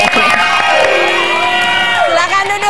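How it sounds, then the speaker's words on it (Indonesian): A studio audience on an Indonesian TV talk show bursts into loud, continuous cheering, shouting and whooping, a dense crowd roar that holds steady throughout. "Tepuk tangan dulu dong buat Kak Sandra"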